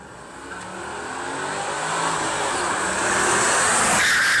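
A Mercedes CLK with a V8 engine accelerates hard, its roar building steadily in loudness and pitch, close and continuous with no talk over it.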